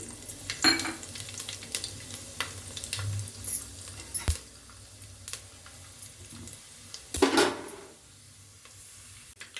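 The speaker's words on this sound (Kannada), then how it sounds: "ಇವಾಗ ಸಾಸಿವೆ ಮತ್ತು ಸೋಂಪನ್ನು ಹಾಕ್ಕೊಳ್ತಾ ಇದ್ದೀನಿ" Mustard seeds and fennel dropped into hot oil for a tempering, cooking green gram curry: faint crackling and popping sizzle with scattered sharp pops and clinks of a spoon stirring in the pan, close by, no talk.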